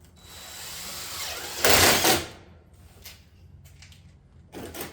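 Stitch screws driven by a power driver through a metal rake channel on a roof, one loud whirring burst in the middle with fainter buzzing bursts before and after, close by.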